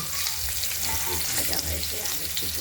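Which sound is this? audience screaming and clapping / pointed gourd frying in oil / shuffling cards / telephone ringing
pointed gourd frying in oil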